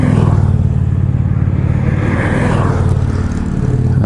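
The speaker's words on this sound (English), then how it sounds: "There's a couple of other bikes headed down the road." Motorcycles pass along a rural road in upstate New York near Lake Champlain, a loud, low engine rumble that swells and fades as the bikes go by, with no talk.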